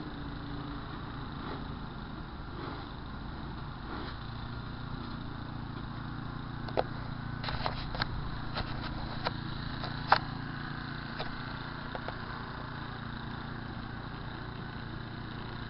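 A snowblower engine runs continuously while a man clears snowy city streets in South Dakota, a steady mid-distance drone with a few sharp scraping knocks partway through.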